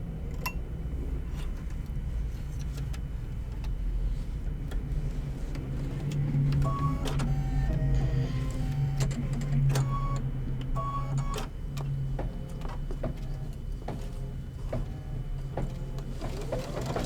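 Embroidery machine stitching a design in red thread for a candy-themed sew-along project, a steady mechanical whirr with rapid ticking needle strokes running continuously and close.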